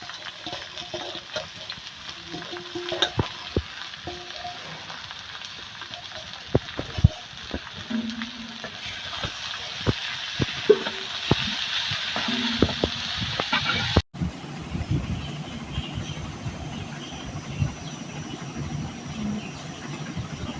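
Alligatorweed greens and green chilies frying in oil and stirred, giving a long, fairly steady sizzle with scattered scraping clicks. Near the end the sizzle turns duller and lower.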